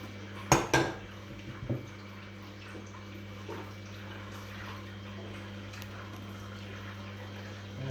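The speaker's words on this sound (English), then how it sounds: "So just quickly run it through the sieve." Flour sifted through a sieve for scones: a few sharp metallic taps and knocks come first, then a low, steady rustle continues under a constant hum, close and fairly quiet, with no talk.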